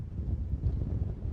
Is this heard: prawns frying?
no